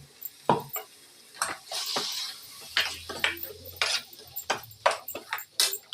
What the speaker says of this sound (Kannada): ಈಗ ಫ್ರೈ ಆಗ್ತಾ ಇರಲಿ.